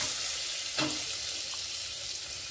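A tadka of garlic, asafoetida and coriander leaves sizzles steadily in hot oil, a close, continuous hiss with a brief louder crackle as the coriander goes in.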